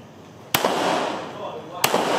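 Two sharp pistol shots at a police shooting training range, about a second apart, each a loud crack with a ringing tail that hangs over the background.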